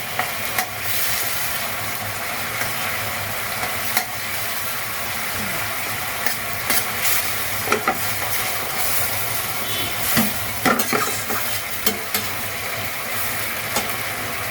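Masala with fresh coriander leaves frying in a pan, a steady close sizzle with scattered scrapes and clinks of stirring throughout, and no voices.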